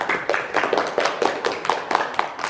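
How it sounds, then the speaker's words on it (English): Year 3 schoolchildren applauding themselves after a classroom arithmetic quiz section, a brisk run of roughly a dozen rhythmic claps, fairly close and steady. "Clap yourselves."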